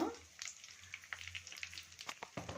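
Curry leaves and asafoetida sizzle in hot oil while cooking tamarind pulihora, a soft steady fry with faint crackles and pops throughout.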